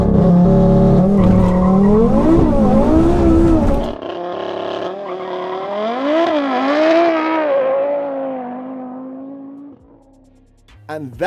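An Audi RS3 tuned to about 1016 bhp launches hard from a standstill on a street, engine roaring loud and close with rising revs through quick gear changes, then fading into the distance as it pulls away.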